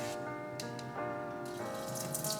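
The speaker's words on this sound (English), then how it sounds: "let's wash and cook our quinoa" Quinoa being washed under a running kitchen tap, a faint steady stream of water with small splashy changes as the grains are rinsed, close by and alone.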